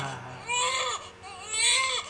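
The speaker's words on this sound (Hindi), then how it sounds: "बच्चे के रोने की आवाज आई।" An infant wails in two rising, wavering bursts with a brief pause between them, loud and close, heard in a devotional storytelling setting.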